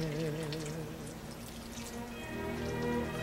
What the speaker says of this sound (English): Let's go ahead and dump that in there. And 1/2 cup of beef broth.